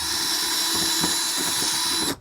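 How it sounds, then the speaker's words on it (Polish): A power drill with an 8 mm bit widening mounting holes in a plastic fender flare, giving a steady, continuous whirring hum with slight bite pulses for about two seconds, close by and alone. "te otwory muszę trochę rozwiercać, bo mam wiertło tylko 8"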